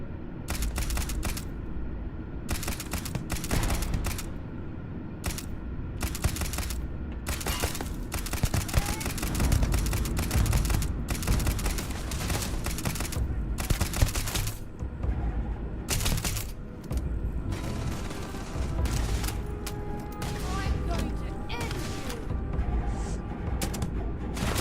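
Rapid bursts of suppressed weapon gunfire in the sci-fi shooter Starfield, sharp repeated cracks in uneven volleys across the whole stretch, loud and close.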